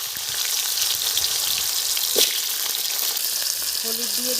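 Dried red chillies, cumin and nigella seeds frying in hot oil with potatoes added, cooked village-style: a steady, close, bright sizzle throughout, with one brief louder crackling burst partway through.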